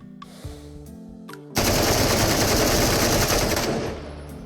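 Full-auto bursts from a 7.62x51 rifle in the VR game Into the Radius: a few short single shots and clicks first, then a loud sustained stream of rapid gunfire lasting about two seconds before cutting off.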